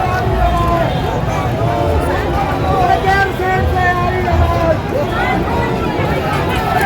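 A large rally crowd at a parade ground, a dense continuous murmur of many voices close around, with nearby talking over the hubbub.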